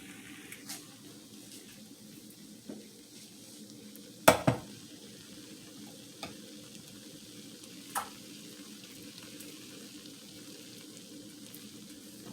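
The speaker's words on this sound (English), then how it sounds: "I'm gonna give it a stir now" Pasta sauce is stirred in a pan on the stove, a soft steady simmer and faint scraping broken by a few sharp clinks of utensil against the pan, close and quiet.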